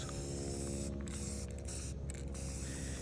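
An aerosol spray paint can hisses in short bursts as a thick coat goes onto the welds of a metal light bar mount, a steady broadband spray with brief pauses, close and alone.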